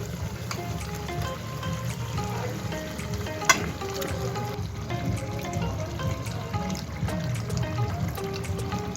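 Marinated chicken sizzles steadily in a hot pan with tomatoes, a loud continuous frying hiss with light stirring scrapes and no speech.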